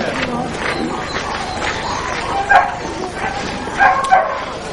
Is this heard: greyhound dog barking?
yes